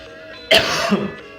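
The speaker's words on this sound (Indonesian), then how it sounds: "Aduh dekah batuk." One harsh, close cough bursts out suddenly, followed by a raspy throat-clearing rumble, over a low background hum.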